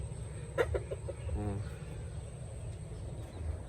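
Hen and stag chickens cluck softly nearby in a backyard pen, a few short clucks and a quick rattling call over steady insect chirping, with a voice faintly in the background.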